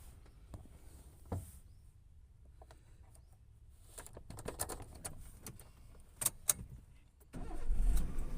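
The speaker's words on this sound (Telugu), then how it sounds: "సో మనం బండి ఒకసారి స్టార్ట్ చేసి చూద్దామా." A 2012 Maruti Suzuki Swift LXi with a manual gearbox starts up with a brief cranking burst, then its engine catches and settles into a close, steady idle alongside a few small clicks and knocks inside the cabin.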